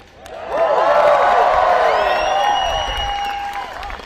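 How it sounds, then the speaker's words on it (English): A large outdoor crowd on a lawn at a political rally cheers, whoops and claps, the roar swelling quickly and holding loud before easing slightly, with some voices shouting within it. "This is a big crowd."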